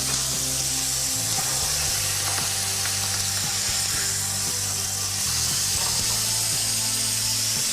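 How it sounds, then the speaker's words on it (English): Misoyaki halibut sears in a hot pan with a loud, steady broadband sizzle, joined by a low humming drone and scattered faint clicks. "Get that searing away. Wow, that's loud."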